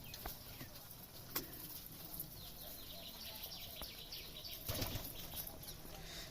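Racing and Giribaj pigeons flap their wings in quiet, scattered bursts around a loft, with a stronger flurry of wingbeats near the end.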